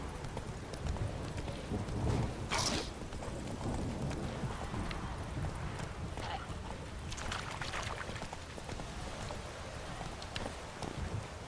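Horse hooves pound while riding in The Witcher 3 video game, a continuous galloping clip-clop set within a dense, noisy rush of movement and ambience.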